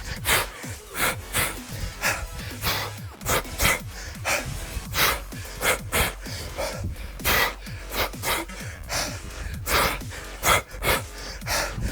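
Heavy, rapid breathing with gasps and panting during an intense no-equipment bodyweight home workout, repeated bursts of effortful breaths close to the mic, no talking.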